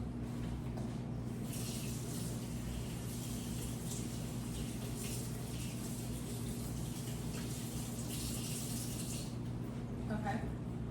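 A plant is rinsed off under running water, a steady continuous wash of water that stays even and fairly loud from start to finish, with no talking.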